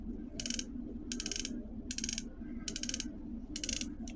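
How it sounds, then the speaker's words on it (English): The cylinder of a Taurus M66 revolver is turned by hand, giving five crisp, evenly spaced ratchet clicks from the hand and cylinder stop, close up with a faint mechanical hum beneath. "The cylinder stop and ratchet hand are strong and effective. You can hear the hand"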